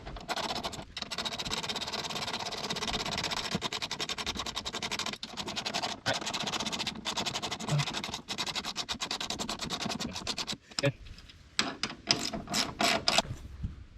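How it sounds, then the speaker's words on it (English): A wrench torques down strut nuts on a Chevrolet Camaro ZL1 1LE during track preparation, giving steady close ratcheting and metallic scraping that continues for most of the stretch, then thins into sparse clicks near the end. "now I can torque these guys down"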